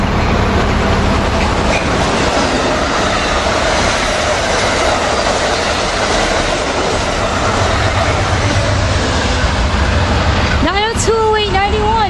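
An Amtrak passenger train of Amfleet I cars passes close by with a loud, continuous rumble and rail clatter throughout, and a brief rising tonal sound near the end.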